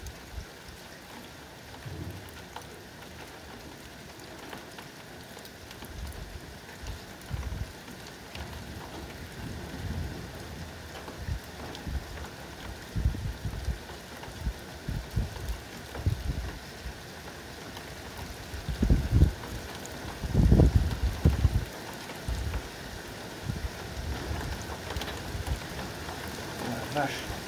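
Hail and rain pour down through a violent summer thunderstorm, a steady dense hiss with heavier bursts of drumming pelting and low thunder rumbles, loudest toward the end, with a voice speaking briefly.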